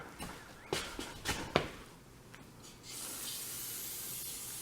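After a few soft clicks and taps, a steady hissing spray of aerosol brake cleaner on a brake caliper starts and continues to the end, close and fairly quiet.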